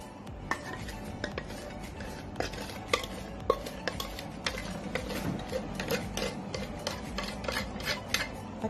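A utensil stirs and clinks against a bowl while wet ingredients are mixed into dry ones for chocolate crinkle cookie dough, giving steady scraping with frequent light taps in an irregular rhythm.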